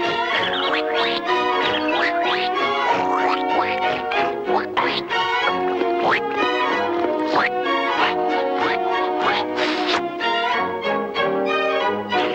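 Voices imitate ducks in the 1937 Disney film Snow White and the Seven Dwarfs, delivering a steady, loud stream of rhythmic quacks over music for the whole stretch, with no pauses.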